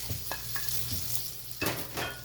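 Fried potatoes and eggplant are stirred into a curry in a pan, soft scraping stirs over a steady low sizzle, with a few sharper clinks of the spoon, close by and without talk.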